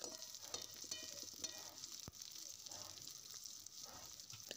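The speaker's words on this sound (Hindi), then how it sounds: "उसमें हम ये तड़का लगा रहे हैं इसको पलटे के हल्के से चला देंगे" Tempering (tadka) for green pea curry sizzles and crackles steadily in hot oil in a pan, with light scraping as it is gently turned with a spatula, loud and continuous throughout.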